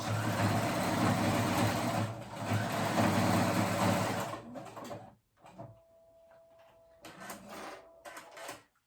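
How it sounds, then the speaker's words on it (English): Sewing machine running a zigzag stitch on a kids' cardigan, a steady close whir for about four seconds, followed by quieter handling sounds. "now that I've zigzag stitched it on"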